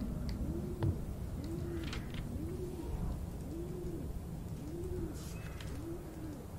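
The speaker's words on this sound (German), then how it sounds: "Taube." A pigeon coos in the horror video game Summer of '58, six evenly spaced soft low coos in a steady rhythm over a constant dull ambient rumble, with faint higher chirps now and then.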